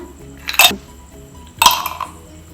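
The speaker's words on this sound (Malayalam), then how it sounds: "ഇനി നമുക്കിതിലേക്ക് ഐസ് ക്യൂബ്സ് ചേർക്കാം." Ice cubes drop into watermelon juice in two separate bright clinking bursts about a second apart, close and fairly loud against a quiet background.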